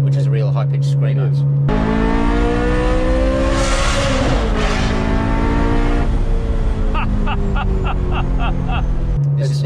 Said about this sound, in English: I think it's probably one of the best sounding Ferrari engines ever built.